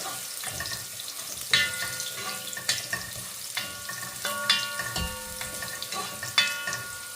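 Garlic sautéing in hot oil for a Sri Lankan chicken devilled dish, a steady close sizzle broken by repeated scrapes and clinks of a spoon stirring the pan, with no talk.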